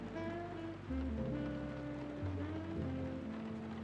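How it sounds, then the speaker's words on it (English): Rainy night coffee shop ambience with rain pattering on surfaces under mellow relaxing jazz, sustained bass and piano tones forming a soft, steady backdrop without speech. "rainy night coffee shop ambience with relaxing jazz"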